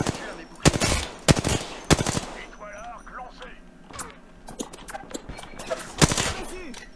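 Bursts of automatic gunfire from the Apex Legends video game, several loud volleys in quick rapid fire, with a voice talking in between and quieter in-game sounds underneath.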